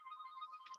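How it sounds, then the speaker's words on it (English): A mobile phone rings faintly in the background during a talk on smart digital villages, a brief steady electronic tone with a slight warble. "It's my phone that's kind of going there at the moment."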